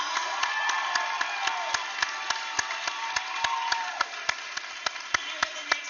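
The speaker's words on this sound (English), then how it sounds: "So let's give him a huge round of applause." Steady applause from a large crowd, sharp claps ringing out continuously with no voices standing out above the clapping.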